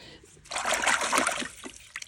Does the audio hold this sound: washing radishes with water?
yes